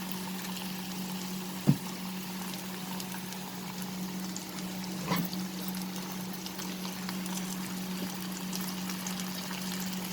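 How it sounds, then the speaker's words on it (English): Water poured into a pan of okra and mustard seed paste, a soft steady trickle against a constant low hum, with a couple of brief clinks along the way. "I will add a little water also."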